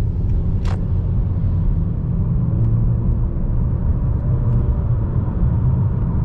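A 2018 Honda Accord LX 1.5L engine hums and rumbles steadily from inside the cabin as the car accelerates moderately, with a brief high squeak early on.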